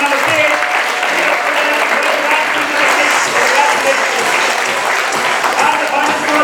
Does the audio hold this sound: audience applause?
yes